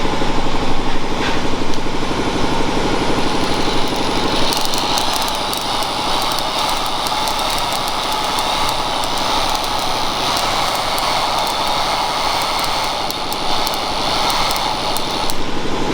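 An 80-year-old stationary engine, fitted with a magneto taken from a spare-parts engine, runs steadily and loudly with a continuous mechanical drone and an even, rapid firing rhythm throughout.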